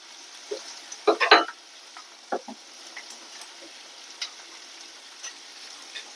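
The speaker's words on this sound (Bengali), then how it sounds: "এবার দিয়ে দেব আদা কুচি। আদাটা আমি গ্রেট করে নিয়েছি। তো হালকা করে ভেজে নেব।" Grated ginger frying lightly in a pan, heard as a faint, quiet sizzle broken by a few short spoon-and-pan knocks from stirring near the start.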